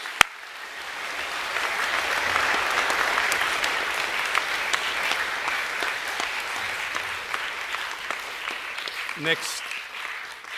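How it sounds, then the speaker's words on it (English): One last round of applause from a school assembly audience for students given junior academic awards, a broad steady patter of many hands that holds on, with a voice briefly sounding out near the end. "Can we give one last round of applause to all those students, please?"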